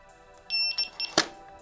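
A Begode electric unicycle gives two short electronic beeps, the first a steady tone lasting about half a second and the second a brief chirp, followed by a sharp click, close and clear over a quiet background.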